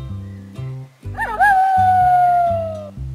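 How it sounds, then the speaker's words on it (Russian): A wolf in a children's cartoon lets out one long, loud rising-then-falling howl over a steady bouncy music backing, with no talking. "Это волк. Он страшно воет."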